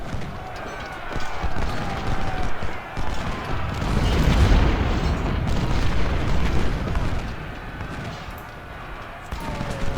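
Cannon and artillery fire in the Civil War strategy game Ultimate General: Civil War, a dense rumble of booms and distant volleys rolling together, loud and continuous, with a voice talking over it.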